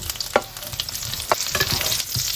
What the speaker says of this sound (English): Put in your potatoes. And your cauliflower together now.